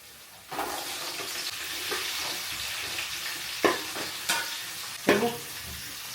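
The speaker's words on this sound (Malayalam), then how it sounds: "ഇനി ഉള്ളി ഇട്ട് കൊടുക്കാം ആദ്യം ചെറിയ ഉള്ളിയാണ് ഇടുന്നത്" Shallots frying in hot oil give a steady close sizzle, with several sharp scraping clatters of a spoon stirring the pan near the end.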